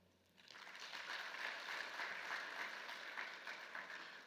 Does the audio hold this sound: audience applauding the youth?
yes